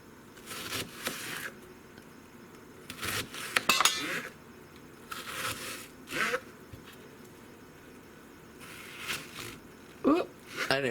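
A knife slices through canned mushrooms being trimmed for mushroom jam, giving intermittent soft scraping cuts and light clinks in short bursts, close and moderately quiet.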